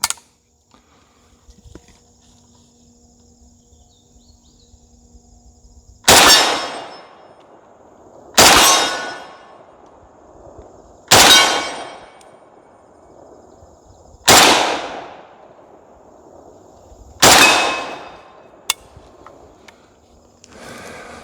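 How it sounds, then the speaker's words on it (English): Five loud, sharp rifle shots from a Zastava M70 fitted with a tank muzzle brake, spaced a few seconds apart outdoors, each followed by a quick decaying echo, with quiet pauses between. "First shots for me with the tank brake."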